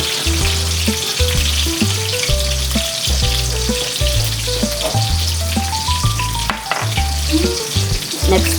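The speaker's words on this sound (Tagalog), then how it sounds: "Iirisan na natin yung ating garlic at saka yung ating onion." Garlic and onion sautéing in a pan for chicken adobo with tofu, a constant loud sizzle and occasional stirring, heard beneath prominent melodic background music.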